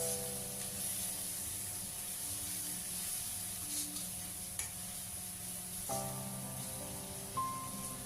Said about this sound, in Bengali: এবার একসাথে মশলাগুলোকে তেলের সাথে খুব ভালোভাবে কষিয়ে নেব।